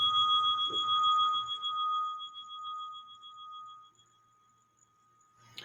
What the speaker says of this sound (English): Allow the vibration of the bell to take you deeper.